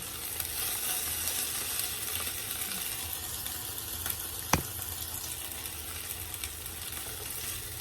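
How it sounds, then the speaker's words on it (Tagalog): Corned beef kaldereta sautéing in a pan gives a steady, close sizzle throughout, with one sharp clink from a utensil midway and faint stirring scrapes. "Gigisa lang natin hanggang maluto"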